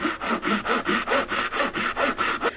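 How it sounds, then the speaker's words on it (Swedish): Hand saw cutting wood for a wooden hinge, about eleven even back-and-forth strokes in a steady rhythm, close and clear with no talking. "Här är det naturligtvis viktigt att såga parallellt med kanten, rakt ner."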